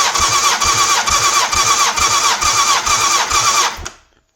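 A 1989 Honda CBR1000F engine cranks over on the starter for a compression test with its carbs removed, giving a loud, close, steady rhythmic chugging of about eight even compression pulses before stopping abruptly.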